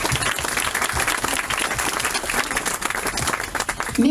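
Dense, continuous applause from a crowd at an outdoor memorial inauguration, clapping loudly and steadily for the association members with no pause.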